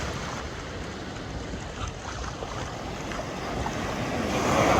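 Ocean waves rush and surge on a beach in Mexico, a steady loud wash of surf with wind noise, building louder toward the end.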